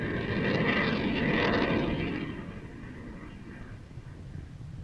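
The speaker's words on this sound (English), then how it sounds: "Basically a fighter jet." A fighter jet flies overhead doing aerial maneuvers near an airport, a loud broad roar that fades into a distant rumble after about two seconds, with no voices.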